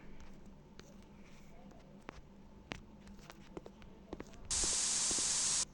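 A spray can in the Gym Manager video game lets out one loud, steady hiss for about a second near the end, following faint clicks and light game sounds.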